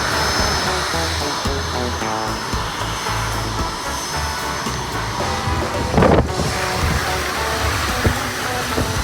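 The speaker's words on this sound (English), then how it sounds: "This is a smaller plane." A small airplane flies low over a beach on St Maarten, a loud continuous roar with heavy wind buffeting that peaks in a sharp gust-like burst as it passes directly overhead.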